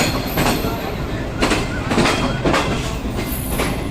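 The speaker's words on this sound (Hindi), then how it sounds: "हमारी गाड़ी जो है इस टाइम पर हैदराबाद रेलवे स्टेशन में दाखिल हो रही है।" The Shalimar Express rolls into Hyderabad railway station, loud and close, with rhythmic clattering wheel beats and broadband rumble pulsing about every half second.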